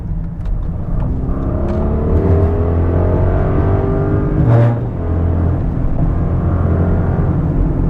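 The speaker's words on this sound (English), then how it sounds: "I love the sound of the engine from inside the vehicle." A 2023 Audi RS Q8's engine revs and accelerates as heard from inside the cabin, a steady low rumble with rising harmonic sweeps and a brief surge midway.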